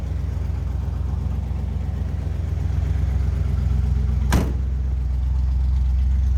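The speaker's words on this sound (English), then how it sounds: "Nice little rumble coming out of that 350." A 1940 Buick Special street rod with a 350 V8 idles with a steady, low rumble that stays even and close throughout, with one brief sharp noise partway through.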